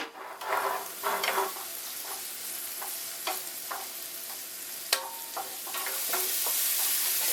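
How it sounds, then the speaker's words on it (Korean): Onion, garlic and ham are stir-fried in a pan, giving a continuous sizzle broken by repeated scraping and clacking strokes of a spatula, with one sharp knock midway and the frying growing louder toward the end. "마늘도 맵고 양파도 맵기 때문에 같이 볶아도 되겠어요?"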